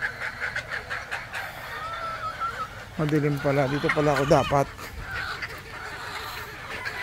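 Four-month-old chickens with many roosters mill about a farmyard. A loud, harmonic crowing call rises clearly for a second or two in the middle, surrounded by scattered clucking, while someone talks throughout.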